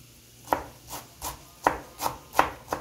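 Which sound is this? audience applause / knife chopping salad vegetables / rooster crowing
knife chopping salad vegetables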